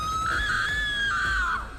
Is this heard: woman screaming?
yes